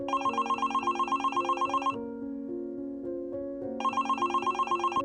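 A phone ringtone plays a repeating electronic melody, clear and close, pausing briefly before the tune starts again.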